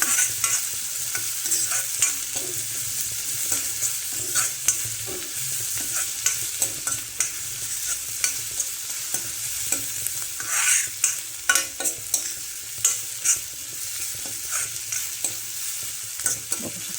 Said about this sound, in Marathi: कांदा पण जरा हो द्यायचा तेलामध्ये